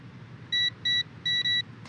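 Four short electronic keypad beeps sound on a safe's combination lock in the wrestling video game WWE2K20, clean and evenly spaced over a low background hum.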